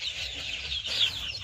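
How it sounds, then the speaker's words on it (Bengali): Farm chickens cluck in a winter coop with poultry breeds like Polish cap and Silkie nearby, a few soft close clucks and murmurs over a quiet background. "আমাদের এই মুরগিও মাশাল্লাহ সব সুস্থ।"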